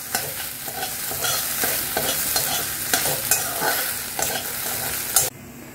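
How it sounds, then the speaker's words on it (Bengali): Onions sizzle in oil for fried rice, a loud, steady hiss close by with repeated scraping stirs of a spatula against the pan, cutting off abruptly near the end. "এখানে আমি আবারও একটু তেল অ্যাড করেছি, পেঁয়াজগুলো দিয়ে দিলাম।"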